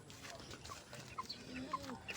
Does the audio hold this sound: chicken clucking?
yes